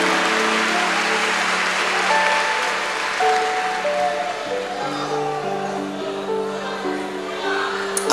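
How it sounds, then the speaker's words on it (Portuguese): Church congregation applauding during an evangelical sermon, a steady wash of clapping that fills the space, with sustained organ or keyboard tones and voices blended underneath. "Aplausos a Jesus."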